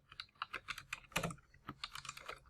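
Rapid keystrokes on a computer keyboard as text is entered into a text box, a close, irregular run of clicks with a brief louder clatter midway.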